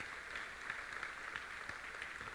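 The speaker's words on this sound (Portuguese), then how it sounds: "Um aplauso pela vida deles." A congregation claps together at a church service. The applause is quiet and distant, a steady even patter that lasts a couple of seconds with no voices over it.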